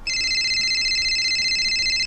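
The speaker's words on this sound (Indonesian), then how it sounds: "Yuk, kita telepon dulu ya." A telephone ring tone sounds while a call is being placed, one steady electronic warble held for about two seconds, loud and close, with no other sounds over it.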